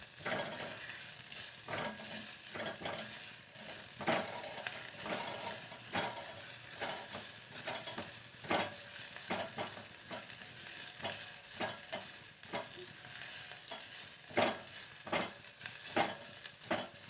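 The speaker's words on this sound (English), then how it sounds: "Slow cook the onions" Onions slow-cook in a pan for a dry potato curry: a soft, quiet sizzle broken by regular scraping stirs and light utensil clicks every second or so.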